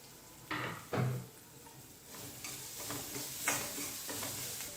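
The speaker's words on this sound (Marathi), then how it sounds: "कांदा टाकून आता मी हा परतून घेणार आहे जास्त देखील परतायचा नाही" Chopped medium-sized onion tossed into a hot pan and sautéed until just softened, with two sharp bursts of sizzling as it lands followed by a steady low frying hiss and intermittent stirring scrapes.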